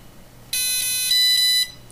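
A Dynam electronic speed controller on an E-Razor 450 gives four sharp, high electronic programming beeps in quick succession, loud and alone, with no gaps between tones.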